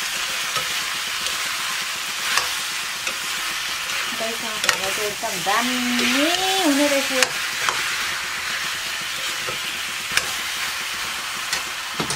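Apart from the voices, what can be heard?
pumpkin curry being stir-fried in a pan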